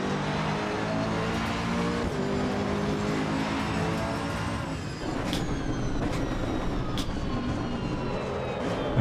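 A Mercedes-AMG GT2 race car engine drones steadily at Laguna Seca in the Assetto Corsa EVO video game, close and loud, with gear shifts shifting the pitch.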